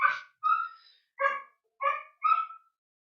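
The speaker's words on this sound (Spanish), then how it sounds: "Oh, estos perros." Dogs bark nearby in a string of five sharp, evenly spaced barks, loud and clear against an otherwise quiet background.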